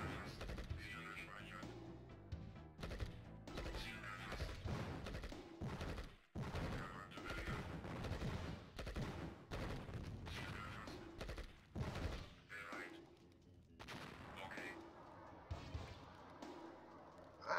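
Gunfire rattles through the real-time strategy game Earth 2140 in dense bursts and rapid volleys of shots and thuds, with someone talking over the battle noise.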